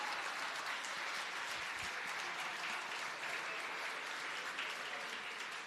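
An audience in a church service applauds, a dense, even wash of many hands clapping that holds steady throughout at moderate distance, fairly faint, with no voices standing out.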